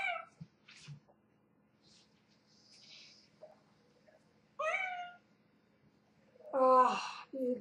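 Pet cat meowing in short, separate calls, a few quieter and two louder near the end, close by, with faint murmured voice sounds in between.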